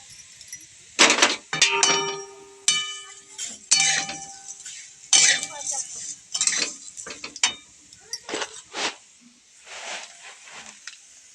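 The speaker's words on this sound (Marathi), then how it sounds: "बघा हे सगळं शेवाळ टाकून मी असं परतून घेते शेवया" Vermicelli being stir-fried in a little oil in a wok with potato, cumin and mustard seeds, giving irregular scraping and clattering strokes of a spatula against the metal, separated by short quiet gaps.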